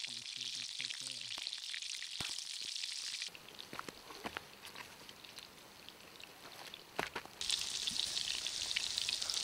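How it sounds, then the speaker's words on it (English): Ground squirrel meat sizzling and crackling as it cooks over an outdoor campfire, a steady close hiss with occasional pops and a brief tonal sound near the start. "I'm going to just give this its time, hang out by the fire and enjoy myself and"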